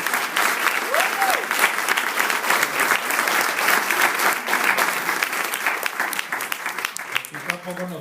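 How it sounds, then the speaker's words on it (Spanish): An audience at a church testimony gathering breaks into sustained applause, a loud continuous crowd of clapping hands lasting about eight seconds and easing slightly at the end, with some voices mingled in. "¿Por qué no le damos un aplauso?"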